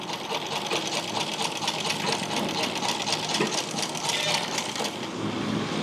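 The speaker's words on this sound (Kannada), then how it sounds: "ಫೂಟನ್ನು ಕೆಳಗಡೆ ತಗೊಂಡು ಸ್ಟಿಚ್ಚನ್ನು ಕಂಟಿನ್ಯೂ ಮಾಡಿ" A sewing machine stitches fabric around the corner of a neck design, running continuously with a fast, even mechanical whir and rattle close by, with no pauses.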